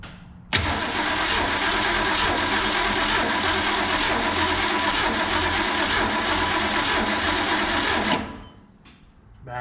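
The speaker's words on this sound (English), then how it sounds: "So let's do another good 10-second crank." A 289 V8, fitted in place of a six-cylinder, cranks over during its first start attempt: a steady, loud starter-motor churn for about eight seconds that cuts off abruptly, leaving quiet.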